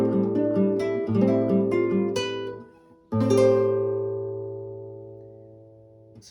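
Guitar chords played close by, a few strummed rhythmically, then a single chord struck and left ringing, slowly fading out.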